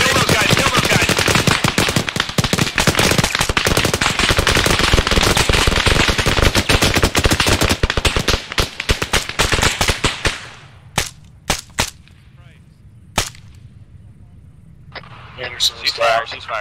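Sustained machine-gun bursts in ArmA 3, dense rapid gunfire for about ten seconds, then scattered single shots and short bursts with quieter gaps, loud and close, with voices talking over parts of it.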